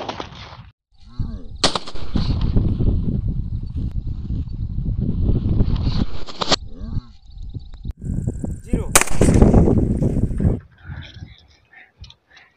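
Homemade gun fired at night in an open field, two loud sharp blasts a few seconds apart, each with a long rumbling tail, alongside a person speaking close to the mic.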